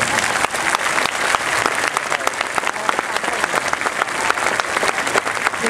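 A large audience applauds drummers at an outdoor Shin Kong Mitsukoshi drum festival performance, with dense, sustained clapping that stays loud and steady throughout.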